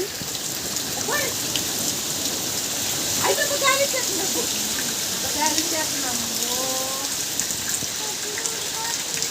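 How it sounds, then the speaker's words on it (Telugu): Heavy rain with strong wind roars steadily with a gusty, rushing wash, while a person talks intermittently beneath the downpour. "వర్షమే కాదు, వర్షంతో పాటు విపరీతమైన గాలి కూడా వచ్చేసింది."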